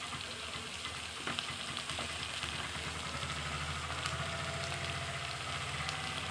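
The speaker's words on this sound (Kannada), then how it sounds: "ನೆಕ್ಸ್ಟು ಬದನೆಕಾಯಿ ಹಾಕ್ತಿದ್ದೀನಿ." Eggplant fries in oil in a pan, giving a continuous close sizzle and crackle with faint stirring scrapes and no voices.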